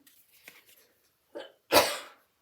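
A few soft coughs, then a sharp, loud cough, close by with short pauses between.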